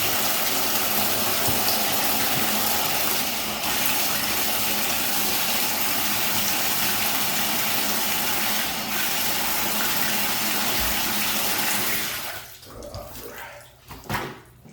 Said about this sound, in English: Some water going.